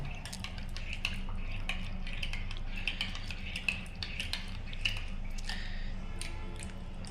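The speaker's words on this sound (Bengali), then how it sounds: "চামচ দিয়ে নেড়ে নেব" A spoon stirring hot coffee in a cup, giving soft repeated clinks and light scraping against the cup, close and fairly quiet, without talk.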